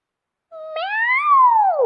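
A single cat meow, close and clear, rising then falling in a drawn-out cry of almost a second and a half after a short silence.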